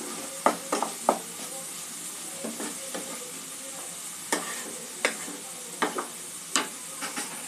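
Spices with coriander powder sauté in a pan for an egg gravy, a low steady sizzle broken by a series of sharp scraping and stirring strokes at irregular intervals.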